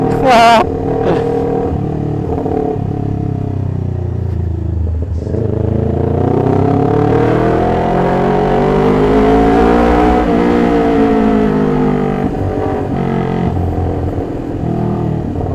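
A loud Kawasaki Ninja 400 motorcycle with an aftermarket Akrapovic full-system exhaust, deep exhaust note revving up and down steadily, close by, with no talking.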